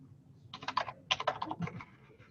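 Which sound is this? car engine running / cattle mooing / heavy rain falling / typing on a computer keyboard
typing on a computer keyboard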